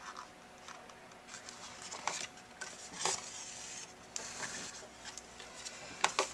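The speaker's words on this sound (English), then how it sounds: "I'm just going to keep stitching like I was before" Hand stitching with needle and thread: faint, irregular soft ticks and brushing scrapes as the needle and thread pass through the material, spaced a second or so apart in a quiet room.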